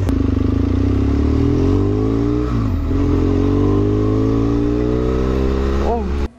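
A motorcycle ridden at night, its engine a loud, steady close-up drone whose pitch rises and dips slightly as the rider travels, ending in a quick rev before the sound cuts off.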